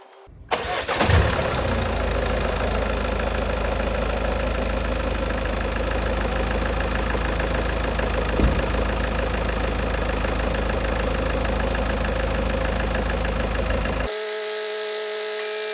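A 2016 Ford Focus ST 2.0 diesel engine cranks briefly and catches, then settles into a steady, loud, close idle that runs on without a break before cutting off near the end.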